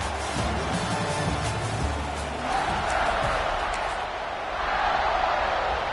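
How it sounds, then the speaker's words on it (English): Stadium crowd roaring in the football video game NCAA 26 as a field goal unit lines up on fourth down near the goal line, a steady loud wash of noise that swells and dips across the stands. "This crowd trying to do its part to get inside the kicker's head."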